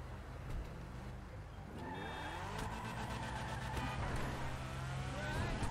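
A Mazda RX-7 drives in GTA 5 Online, its engine revving with rising and falling pitch sweeps and some tire squeal, steady and moderately loud.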